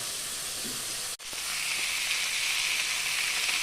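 Food frying in a pan on a home stove, a close, steady sizzling hiss that drops out briefly near the start and then carries on evenly.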